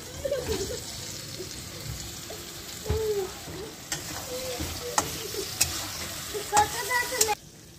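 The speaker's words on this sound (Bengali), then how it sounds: "এরপরে ভেজে রাখা মাংসটা দিয়ে দেওয়া হবে" Fried chicken pieces go into a sizzling capsicum gravy in a pan, with steady frying crackle, scraping stirs and several sharp clanks of a spoon against the pan, close and continuous.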